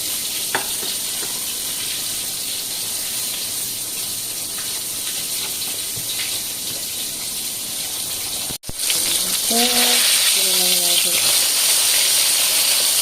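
A pork chop fries in hot oil with a loud, steady sizzle and crackle lasting the whole time. A brief cut comes near the end, after which a voice speaks over the continuing frying.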